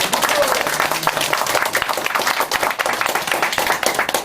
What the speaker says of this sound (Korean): 한 번 더 한 번 해주십시오. 박수.